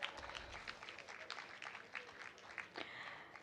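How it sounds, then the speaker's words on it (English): An audience at the World Islamic Economics and Finance Conference applauds, a faint, distant spread of clapping from a large hall, steady with scattered louder claps and a low murmur of voices. "A round of applause, audience."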